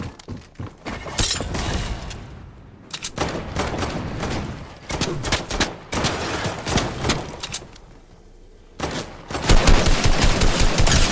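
Rapid bursts of AK rifle fire from a Fortnite match, loud and close, coming in several clusters broken by short gaps, with a sharp shattering crack in the mix and no talk over it.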